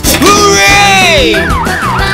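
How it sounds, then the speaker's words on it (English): A loud, close electronic siren from a toy ambulance wails in rising and falling sweeps over a rhythmic mechanical backing, like a small battery-powered toy vehicle. "Ambulance. Ring a ding ding."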